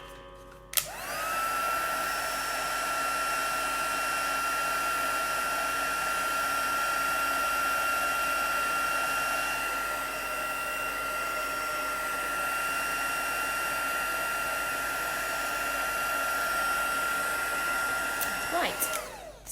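A hair dryer blows on a canvas, switching on with a click and rising whine, then running as a loud steady whir with a high tone for most of the time before shutting off near the end.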